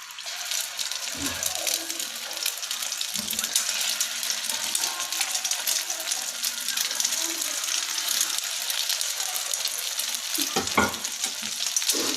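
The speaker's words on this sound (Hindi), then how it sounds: "टिक्कियों को हमने थोड़ा सा शैलो फ्राई करना है। अंडा लगा के" Egg-coated shami burger patties shallow frying in an oiled pan, a continuous loud sizzle with a few brief clicks and scrapes from handling.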